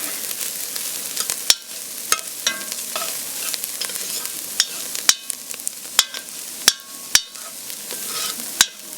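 Garlic sizzles steadily in a pot for shepherd's pie soup, a loud close frying hiss broken by sharp scrapes and clacks as it is stirred, no voices.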